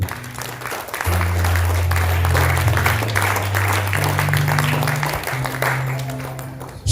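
Church congregation applauding to acclaim the Lord, a steady dense clapping across the whole stretch over sustained low organ or keyboard chords, loud and close with a brief dip near the start.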